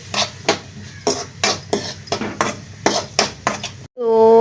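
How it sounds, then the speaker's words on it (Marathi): A metal spoon clinks and scrapes rhythmically against a pan while vegetables are stirred and mixed for fried rice, loud and close, ending with a sudden sharp clatter. "आतां हो उरलेलो दोनूय वेजीसान घालता. आणि ते बरें आतां मिक्स करून घेता."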